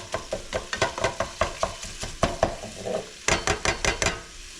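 Meat nearly done in a pan with its rendered sausage grease, sizzling steadily while a utensil stirs and scrapes in a quick repeated rhythm, close and fairly loud with no talking.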